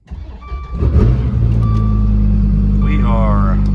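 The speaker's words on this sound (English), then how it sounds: "cold start" A Dodge Viper's engine cold-starting close by: brief cranking, then a loud catch, then a strong steady low rumble settling into idle, with a few electronic chimes and a voice heard faintly over it.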